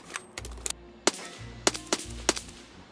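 Gunfire in Escape from Tarkov: a series of sharp, separate shots in irregular bursts, some close and loud and others fainter, over low background rumble.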